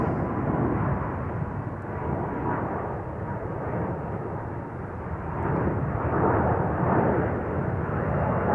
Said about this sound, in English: More wide bodies leaving from the center runway.